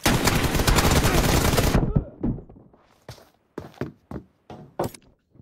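Sustained automatic M4 rifle fire from the PUBG video game, a loud dense burst lasting nearly two seconds, followed by scattered single sharp shots and thuds.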